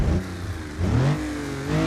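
In BeamNG, the 3.7-litre straight-six of a Stirling S6 mod revs up sharply and falls back, then climbs again, sounding close and smooth with a rising, whirring tone.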